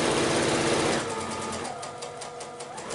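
A sewing machine stitching quilt block pieces for a country crossroads block, running at a loud, steady whir that eases slightly in speed partway through, close by with no talking.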